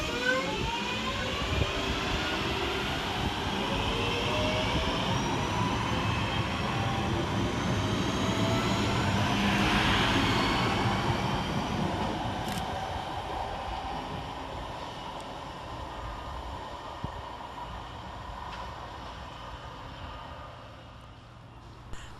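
A Northern class 323 electric multiple unit passing through St Helens Junction station, a steady rolling rumble with whining traction tones that swells toward the middle, then slowly fades as it moves away, with no talk.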